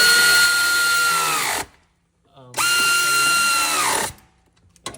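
Power drill driving in the top radiator screws on a 2009 Suzuki Grand Vitara, two loud sustained whirring bursts with a brief pause between, winding down at the end of each run.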